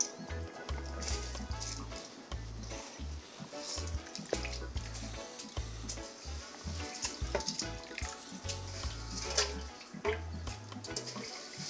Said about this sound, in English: Now I finished washing the rice.